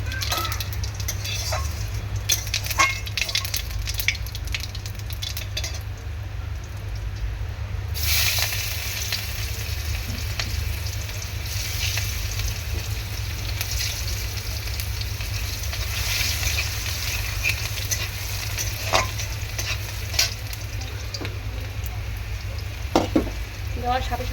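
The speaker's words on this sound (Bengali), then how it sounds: "বেগুন ভাজা তুলে নিয়েছি ফোড়ন দিয়ে দিচ্ছি কড়ায়" Spices hit hot oil in a wok right after fried eggplant is lifted out, a steady close sizzle and crackle running throughout with occasional scrapes and stirring clatter, no talking.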